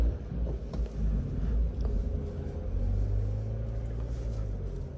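A 2016 Mazda Biante Skyactiv with automatic transmission drives slowly on a test drive, a low muffled cabin rumble that holds steady with a slight rise in engine tone, heard from inside and without speech.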